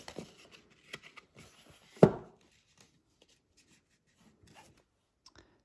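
Scissors trimming a page taken from a vintage book for a handmade journal, heard as a few faint, close snips and rustles, with one sharper cut standing out briefly before the sound fades to near silence.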